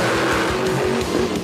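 A monster truck engine growls loud and close in short, throbbing bursts, revving unevenly with a rough mechanical edge.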